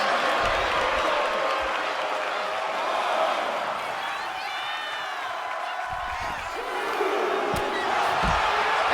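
Wrestling arena crowd roaring and cheering continuously through a match, a dense wash of noise with scattered thuds and slams, under a commentator's speech.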